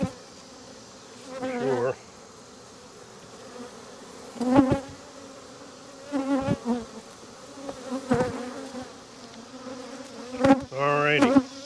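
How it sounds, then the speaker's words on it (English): Bees buzz steadily close by, with louder swells as individual insects pass near; a voice speaks briefly. "there's lots of bees"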